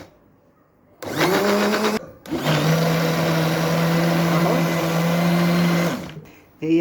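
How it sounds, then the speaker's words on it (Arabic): An electric blender grinds homemade tahini in a home kitchen, a loud steady droning whir starting after a second, pausing briefly, then running on for about four seconds before cutting off. "انا بضرب في الخلاط اهو."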